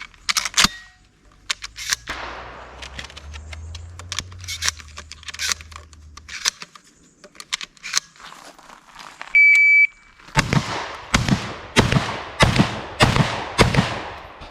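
Beretta 1301 Tactical shotgun fired at 25 yards during a timed Bill Drill, with a timer beep followed by six loud, sharp shots in rapid even succession, preceded by scattered clicks and handling noises.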